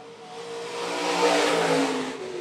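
A stock car roars past on a dirt track at Phillips County Raceway, its mid-pitched engine swelling louder toward the middle, then holding a steady drone as it passes close by.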